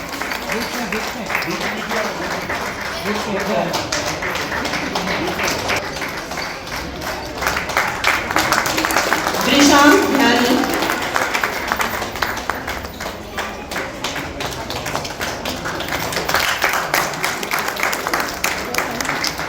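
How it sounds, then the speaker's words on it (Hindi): An audience applauds children at the closing of a yoga camp in India, heard as sustained, dense clapping from a crowd that swells in the middle, with talk mixed in. "बच्चों को प्रोत्साहित करते रहे, तालियां बजाते रहे"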